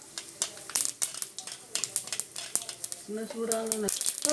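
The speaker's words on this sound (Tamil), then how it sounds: "கடுகு நல்லா பொரிஞ்சு வரட்டும்" Crackling, popping sizzle of mustard seeds hitting hot oil, close and continuous, with brief bursts and a louder frying surge near the end.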